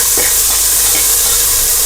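Onions fry loudly in a pan for white biryani pulao, a dense, close, continuous sizzle and hiss with faint stirring scrapes underneath and no voices.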